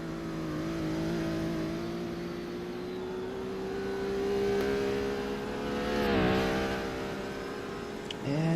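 A twin-turbo V6 race car engine drones steadily during a GT race at Augusta Raceway, holding a sustained tone that swells as the car nears and shifts pitch around a pass, with other cars humming in the background.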